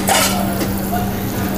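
Chopped onions with garlic frying in olive oil in a pan, a steady close sizzle throughout with brief stirring scrapes near the start.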